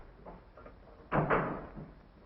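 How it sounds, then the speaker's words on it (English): An interior door swings shut with a solid thud followed by a quick second knock, fairly close and loud against a quiet room in an old military training film. "Shut the door, please."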